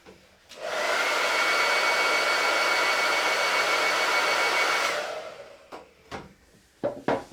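A hair dryer blows steadily for about four seconds to dry a craft project, then shuts off, followed by a few light knocks and handling sounds.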